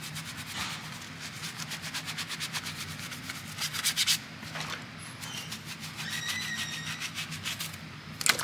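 A video game cartridge being scrubbed clean, heard as close, rhythmic brushing strokes in quick repeated bursts with a brief pause and a few small clicks near the end, no talking.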